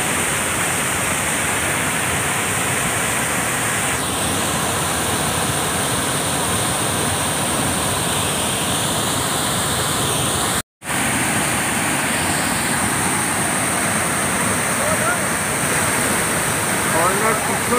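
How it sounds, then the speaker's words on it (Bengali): A waterfall on a Jhargram trip roars as calm water turns into a thundering cascade, a dense, loud and unbroken rush heard close up, with one abrupt split-second dropout midway and a voice faintly beneath the roar. "পিছনে একটা শান্ত জলধারা, সেটা এখানে এসে এরকম গর্জন করে নেমে আসে।"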